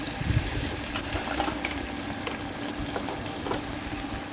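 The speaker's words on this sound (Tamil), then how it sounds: "இப்போ வந்து வெங்காயம் போட்டோம் இல்லையா வெங்காயம் வந்து நல்லா வதக்க விடணும்" A big onion sautés in hot oil in a pan for mutton pasta, giving a steady, moderately faint sizzle with scattered crackles and no talk.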